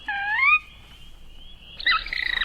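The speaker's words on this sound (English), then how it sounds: "is our mystery bird." A clear bird call sounds for a radio mystery bird contest: a rising series of whistled notes, then a sustained thin tone, then a burst of rapid chattering, close and distinct with no talk.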